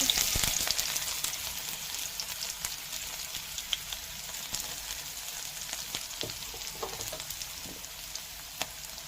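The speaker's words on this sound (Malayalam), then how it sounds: "എണ്ണ ചൂടാക്കി വെച്ചിട്ടുണ്ട് അതിലേക്ക് നമ്മൾ അരിഞ്ഞു വെച്ചിട്ടുള്ള ഇഞ്ചി വെളുത്തുള്ളിയും ചേർത്ത് കൊടുക്കാവേ" Chopped ginger and garlic frying in hot oil in a pan, a steady close crackling sizzle with scattered sharp pops running throughout, no voices over it.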